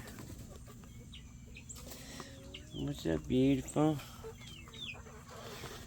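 Several chickens of rare breeds, including a crested bird, give short bursts of nasal clucking close by over a steady low hum, with someone speaking briefly to them.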